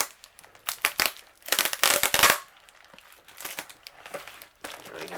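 A taped diamond painting package is torn and opened, giving bursts of crinkly plastic and paper crumpling with brief tearing, loud up close, then smaller rustles and handling noises.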